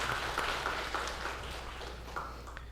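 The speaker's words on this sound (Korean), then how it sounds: "우리 하나님께 영광의 박수 올려드리십시오" A church congregation gives a round of applause during a Sunday service, a dense, even patter of many hands that holds steady and slowly fades, with no talking over it.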